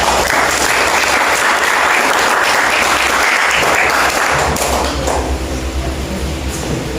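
Audience applause for both teams at a school debate, a dense steady clapping that holds loud throughout before thinning slightly near the end.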